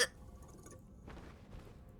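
A single sharp hiccup from a person playing Astroneer opens the moment, close and abrupt, followed by quiet game ambience.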